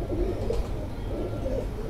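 Pigeons coo close by, soft low rolling calls over a steady background murmur, no talk.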